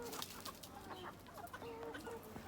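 Chickens clucking close by, a scatter of short, repeated clucks and soft chatter from several birds over a quiet background.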